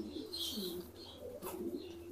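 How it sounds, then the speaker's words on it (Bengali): Home-bred baby pigeons cooing softly and continuously close by, low rolling coos with a few faint higher chirps mixed in, no voices. "এগুলো সব হোম ব্রিড পায়রা"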